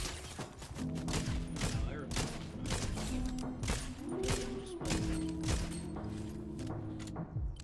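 Fortnite gunfire with irregular sharp shots and short bursts scattered across the stretch, mixed with game noises and tonal effects, some of them close and some further off.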